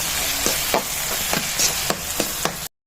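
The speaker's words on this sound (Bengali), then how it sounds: "পেঁয়াজটা বাদামি কালার হওয়া পর্যন্ত এভাবে নাড়তে থাকবো" Onions fry in a pan and are stirred until browning, a loud, close sizzle with regular scraping strokes of the spoon about every half second, ending abruptly; no talking.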